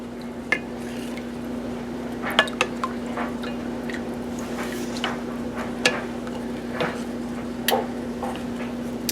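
Melting jam is stirred in a pot, giving scattered light clinks and soft scraping taps at an uneven pace over a steady low hum.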